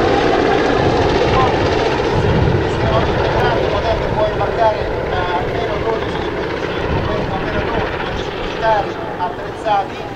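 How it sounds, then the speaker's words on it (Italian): An Italian Navy MH101A military helicopter flies at an air show at Punta Marina, its rotor thudding and turbine roaring loudly and steadily, with faint chirpy sounds over the top. "Sì Carlo, questo è un MH101 Alfa in dotazione al primo gruppo elicotteri"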